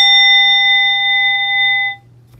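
A single struck church bell or chime in a Korean church in Tongyeong rings out loud and clear, its bright sustained tone holding steadily for about two seconds before cutting off abruptly.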